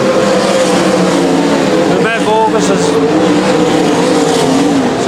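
Limited sprint cars racing on a track, engines roaring loudly and continuously with a sharp pitch sweep as one passes close by, under a commentator's fast race call.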